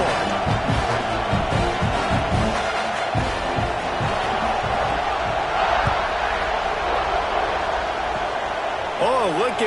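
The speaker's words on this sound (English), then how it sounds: "this crowd is buzzing after that last score" A packed stadium crowd in the College Football 26 video game, during a Georgia season, roars loudly and steadily for the whole stretch, a dense wall of cheering with voices mixed through it.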